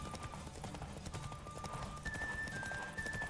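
Horse hooves galloping in a race in The Witcher 3 video game, a continuous rolling clatter of hoofbeats under game ambience, with a faint tonal whine above, no voices.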